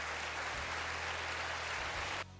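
A large audience at the State of the Union address breaks into dense, steady applause that fills the room with loud, continuous clapping before cutting off abruptly near the end.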